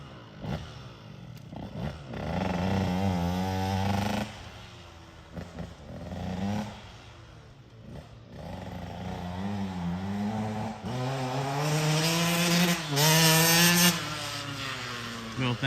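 A 2005 KTM 85/105SX two-stroke dirt bike after a full rebuild and carb tune-up, its engine revving up and down in repeated bursts as it is ridden, rising and fading at moderate distance.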